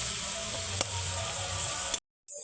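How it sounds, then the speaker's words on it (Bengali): Onion, tomato, ginger and garlic fry together in hot oil for a vegetarian soybean dish, giving a steady, close hiss of sizzling that cuts off abruptly near the end. "পেঁয়াজ, টমেটো, আদা, রসুন একসঙ্গে বেশ ভালোভাবে ভাজা ভাজা করে নেব।"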